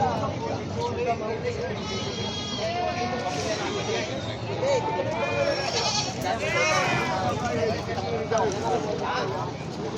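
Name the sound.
goats bleating at a livestock auction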